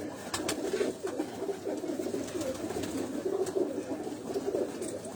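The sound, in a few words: old breeder pigeons cooing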